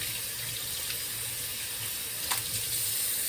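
Tap water runs steadily into a kitchen sink while broccoli is rinsed under it, a close, even hiss with a faint splash of something briefly touched by the stream.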